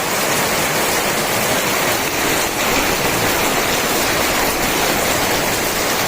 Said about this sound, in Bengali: খুব জোরে বৃষ্টি হচ্ছে খুব জোরে